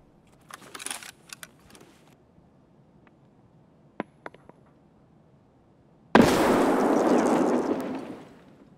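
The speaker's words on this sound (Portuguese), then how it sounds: "Essa granada acho que veio de lá" A grenade goes off close by in Escape From Tarkov's Interchange mall, a sudden loud blast with a long roaring, crackling tail that fades over a couple of seconds, following scattered distant gunshots and footsteps.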